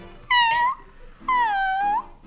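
A person imitates a cat's meow with their voice, making two drawn-out, tonal meows in a row, close and clear with a short pause between them and no talk.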